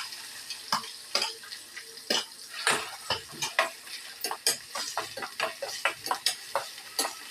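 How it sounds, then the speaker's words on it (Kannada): Onions frying in a pan with a steady sizzle, broken by frequent sharp scrapes and clicks of a utensil stirring against the pan, close and moderately loud throughout. "ಕೆಂಪು ಬಣ್ಣ ಬರೋವರೆಗೂ ಫ್ರೈ ಮಾಡ್ಕೊಬೇಕು."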